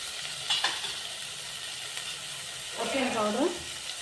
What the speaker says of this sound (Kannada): ಟೊಮೊಟೊ ಹಾಕೋಣ, 2 ಟೊಮೊಟೊ ಫ್ರೈ ಮಾಡಿ ಚುನ್ಮುರಿ ಕಲಸ್ರಿ, ಮಸ್ತ್ ಆಗ್ತದೆ